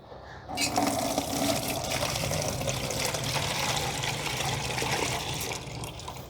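Liquid flower tonic fertilizer strained into a container, pouring and splashing steadily in a continuous gushing stream that trails off near the end.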